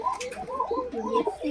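Rampuri pigeons, a breeding pair, cooing in soft rolling bursts close by, the throaty calls repeating steadily through the short stretch.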